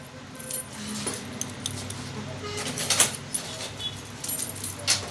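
Keys jangling in short metallic clusters, loudest near the middle and end, over a low background rumble of traffic or a crowd, with no one speaking.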